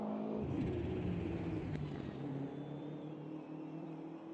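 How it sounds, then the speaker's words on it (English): BMW race car in a sim racing game, its engine running loud and steady, with its pitch dropping and stuttering as it downshifts and a valve bounces. "Just listen to a valve bouncing as he's on the downshift."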